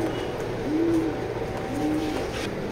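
A male racing pigeon coos twice, two soft, low rolling calls close by against a quiet room background.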